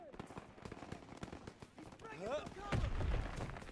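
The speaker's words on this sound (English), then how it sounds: "Gunfire! We must be near our guys." Call of Duty WW2 gameplay: scattered rifle shots crack quietly in the distance, with a brief voice calling out partway through.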